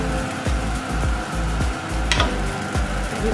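Yogurt-marinated chicken fries in olive oil in a pan with a loud, continuous sizzle, punctuated by regular low thumps and scrapes of stirring and a brief sharp clink near the middle.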